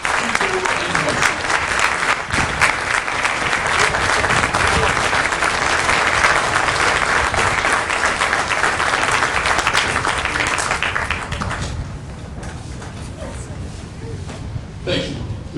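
A large audience applauds at a Marine recruit graduation ceremony for Echo Company, 2nd Recruit Training Battalion, with dense, loud sustained clapping for about eleven seconds that then thins and fades into quieter room sound.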